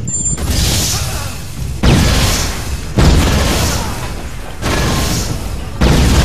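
Explosions in the video game Watch Dogs, played online on PS4 in a Chicago setting: a run of loud, broadband blasts, each bursting in with a sharp onset and sustained rumble, coming roughly every one to two seconds with no speech over them.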